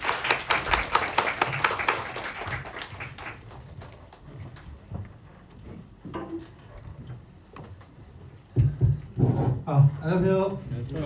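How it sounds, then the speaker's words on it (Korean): An audience applauds to welcome a speaker at a company branch meeting, a few seconds of brisk clapping that thins out, then a voice begins speaking. "자, 박수로 모시겠습니다."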